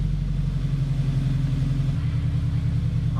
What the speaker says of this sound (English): Let it idle for 45 seconds